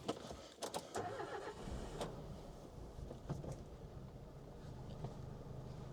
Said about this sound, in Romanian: Haideți să pornim motorul, să mergem cu el. Stai că pornesc motorul.